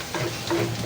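Garlic and onion sauté in a pan, giving a short burst of close, even sizzling with faint stirring.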